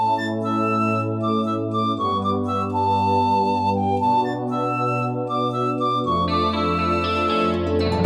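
Music track from the Rayman video game soundtrack, a layered melodic piece with a steady bass line moving through chord changes under bright upper voices, full and continuous.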